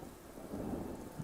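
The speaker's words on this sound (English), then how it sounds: "Oh, there's rain on my screen." Thunder rumbles low and steadily under rain in an indie video game, a short, moderately loud roll that swells near the end, with no talking.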